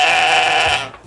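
Sheep or lamb on a farm lets out one loud, close bleat that holds steady and then cuts off, with no talk over it.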